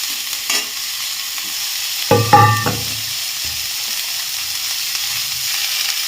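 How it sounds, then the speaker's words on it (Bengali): Broccoli being stirred in a pan for homemade cream of broccoli soup, a steady background hiss with a short, louder clatter of utensil against pan midway and faint scraping afterward; no one talks. "নাড়াচাড়া করে এবার গরম জল দিই"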